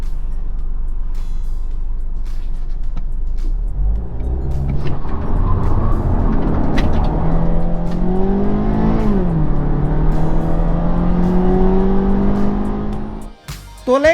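A 2020 Mazda CX-3 with a 2.0-litre petrol engine revs up and accelerates hard, pitch climbing through the gears with a brief dip at a shift, loud and close, then cuts off.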